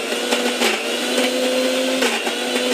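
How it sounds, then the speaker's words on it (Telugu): A mixer grinder blends tomato and garlic for a fenugreek leaf chutney, its steady motor whine loud and continuous, with brief surges in pitch as the load shifts, and no voices over it. "మళ్ళీ మిక్సీ కొట్టేసుకుందాం."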